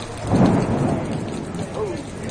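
Deep rumbling thunder rolling through during an EF4 tornado storm in Cullman, Alabama, a loud low swell that fades slowly, heard from a hotel with light rain in the background.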